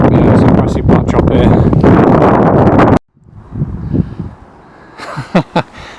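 Heavy wind buffets the microphone in loud rumbling gusts, then cuts off abruptly; quieter gusts and scattered pops follow.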